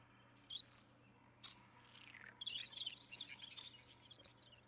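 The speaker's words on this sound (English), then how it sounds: "Stop chirping at me." Small creature in the Spore video game chirping in quick high bursts, a few short calls early then a busier run of twittering chirps over a faint steady hum.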